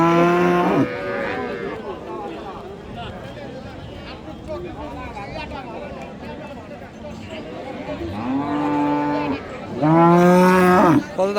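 A cow at a cattle market gives a long low moo at the start, then two more loud drawn-out moos near the end, over a steady hubbub of crowd chatter.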